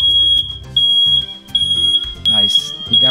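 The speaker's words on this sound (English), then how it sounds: "You got my smoke alarms going off." A smoke alarm beeps in a steady high-pitched tone, repeating in short bursts while a person talks over it.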